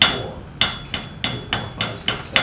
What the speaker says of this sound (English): We'll hammer every one of those sides to make it 16 and 32 sided.